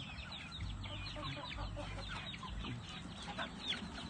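Many chickens and ducks cluck and chatter at once in a busy, continuous flock, heard faintly at a distance.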